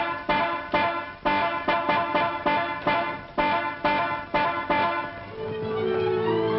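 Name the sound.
car horn honking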